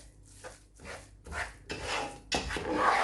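Carrot halva, gajar halwa flavoured with cardamom, being stirred in a pan, giving a series of soft scraping, rasping strokes with short pauses between them that grow denser and louder toward the end.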